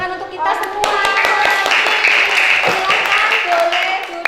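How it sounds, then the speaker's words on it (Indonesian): A class of children at an elementary school claps together, a dense run of rapid hand claps that holds steady for several seconds, close and lively, with young voices mixed in. "Tepuk tangan untuk kita semua."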